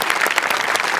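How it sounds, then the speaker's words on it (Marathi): Loud, dense audience applause at a Marathi stage comedy show, a brief burst of close, continuous clapping. "जोरदार टाळ्या"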